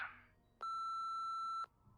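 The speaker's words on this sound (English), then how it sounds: "wait for the beep and leave us a message" A single steady electronic answering machine beep in the Nancy Drew game, about a second long, sounds clearly and cleanly after a brief noise, then silence.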